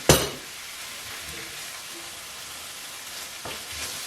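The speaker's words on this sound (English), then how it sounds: "now I'm gonna add a tomato here" Tomato going into a hot frying pan for chicken chettinad, a South Indian dish, gives a sharp sizzling burst at first, then a steady soft frying hiss with faint stirring sounds, and no voices.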